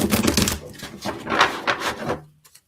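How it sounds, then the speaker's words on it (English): Playing cards riffled in a Vegas shuffle during a live card reading, a few quick clattering bursts of card edges close up that stop abruptly near the end. "I'm resorting back to the Vegas shuffle"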